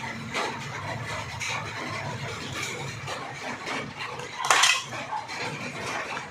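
Spaghetti sauce is stirred in a pot, a continuous soft scraping and clinking of a utensil against the metal with one sharper clatter partway through.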